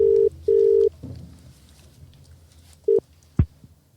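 A telephone rings in two long tones, then one short burst before a click as the call is picked up, with faint room noise around it.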